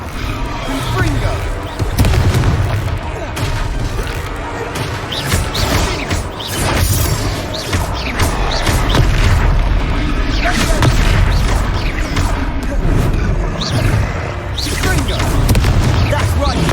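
Confringo fire spells go off in the Hogwarts Legacy video game, loud booming blasts and crashes in a dense, continuous battle din, with voices talking over them.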